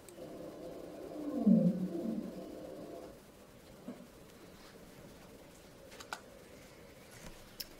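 A blue whale downsweep call from Skjaldvangi Bay, recorded and sped up, sounds as a single loud, low, moaning sweep lasting about three seconds, then fades into quiet background hiss with a few faint clicks.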